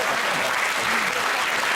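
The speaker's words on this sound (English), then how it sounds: "that is one of the most inappropriate rounds of applause I've ever listened to" Applause from a comedy panel show studio audience rolls on as a brief, steady burst of dense clapping with no voices over it.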